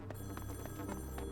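Telephone ringing on a platform in the Deep Sea Metro in Splatoon 2's Octo Expansion, a quiet repeating electronic ring pulsing several times over a steady low hum of game ambience.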